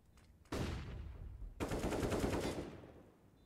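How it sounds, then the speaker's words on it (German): Bursts of gunfire in a Counter-Strike match on the Cache map, two dense volleys of rapid shots, the first short and the second longer and sustained, fairly loud with no talk over them. "Hört die Schüsse im Checkers"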